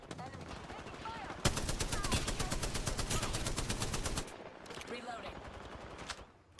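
Rapid automatic gunfire in a shooter video game, a sustained burst of loud evenly spaced shots followed by sparser shots, with game voice callouts over the action.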